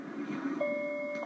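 A golf biofeedback device gives one clear, steady electronic beep that begins midway and holds to the end against a quiet background.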